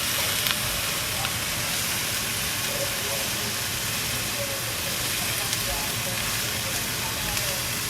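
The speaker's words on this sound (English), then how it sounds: "Right now I'm just frying up my cabbage." Steady, dense sizzling of cabbage frying in olive oil, continuous and fairly close, with a constant crackling hiss throughout and no talking.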